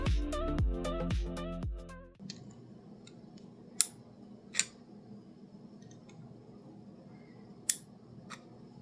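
Tabs inside a 3D printed toothpick crossbow body snap loose as a pick dislodges them, giving a few sharp, isolated plastic clicks over quiet background after a short bit of plucked music.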